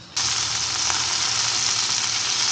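Food fries in oil pooled to one side of a slanted pan in a parking lot, a loud, steady, close sizzle that starts abruptly and holds constant throughout.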